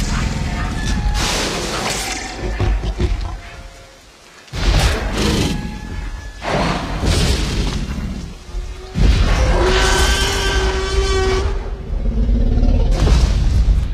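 A T-rex smashing through a fence in the Jurassic Park film, with loud crashing booms and rumbling impacts, low roaring rumble, a brief quiet gap, then sustained heavy crashes and metallic debris layered with a score.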